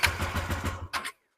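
A used 2023 motorcycle, about 9,800 km on it and low on fuel, cranks in a quick run of starter pulses, pauses briefly, then coughs through a short second attempt before falling silent, close and fairly loud.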